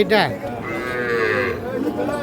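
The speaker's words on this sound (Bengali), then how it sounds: "এখানে একটা প্রচুর চাহিদা সম্পন্ন শাহিওয়াল জাতের ষাঁড় বাচ্চা দেখছি" A Sahiwal bull calf about five to six months old moos once in a drawn-out, wavering call close by, with a quick higher bleat at the start and faint background noise.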